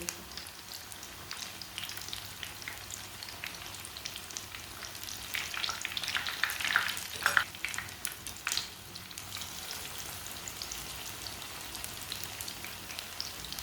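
Spicy, crispy tikkis fry in hot oil with a steady close sizzle and crackle, swelling briefly louder as another patty goes into the pan, with no talk over it.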